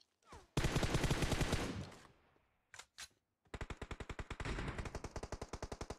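Rapid automatic gunfire in PUBG Mobile on the Erangel map, one long loud burst followed by a couple of short shots, then a sustained rhythmic stream of rounds, close and dominant with no talk over it.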